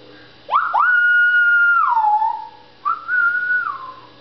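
A pet parrot whistles two long, clear, sustained tones close by, each rising then sliding down, with a short pause between them and no talking.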